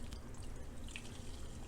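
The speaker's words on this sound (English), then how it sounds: "I'm just going to pour the cashew milk into it." Cashew milk is poured from a container into a nut milk bag set in a pitcher, a soft, low, steady liquid pour with faint splashy trickles and no voices.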